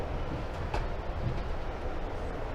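An Amtrak train rolls through a sharp bend, heard from on board as a steady, dense rumble with faint rail clatter and a brief metallic tick, and no voices.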